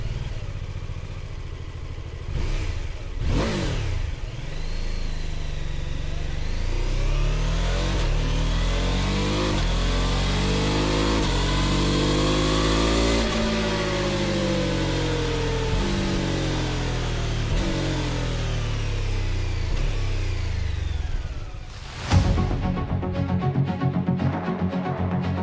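A 2026 BMW F 450 GS motorcycle twin with an offset crankshaft and uneven firing revs repeatedly, engine note climbing through the gears and easing off, loud and close, followed by a sharp burst near the end.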